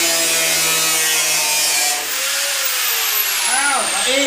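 A tool cuts through the steel tub of a Toyota Starlet KP, removing a section for roll cage fitting, giving a loud, steady harsh grinding that holds for several seconds before winding down with a falling tone.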